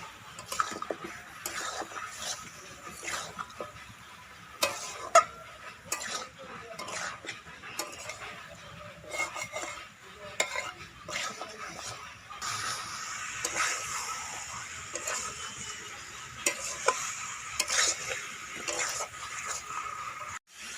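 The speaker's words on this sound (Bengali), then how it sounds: "মাংসটাকে ভালো করে কষিয়ে নিচ্ছি।" Pork being stir-fried in a pan with turmeric, cumin, chili and coriander powders gives soft, steady clinking and scraping of a utensil against the pan, with a faint sizzle running underneath and no talking.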